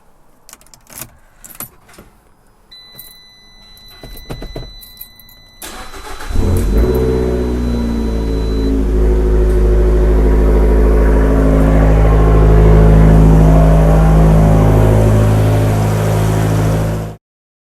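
A Fiat 500 Abarth sits in a garage after an oil change. Keys jangle and faint clicks come first, then the engine cranks and catches with a loud burst. It settles into a steady, strong idle with a rising rev that holds to the end.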